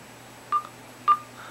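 Two short keypad tones from a Nexus 5 phone being unlocked, clear single beeps about half a second apart in a quiet room, with a faint third blip trailing after.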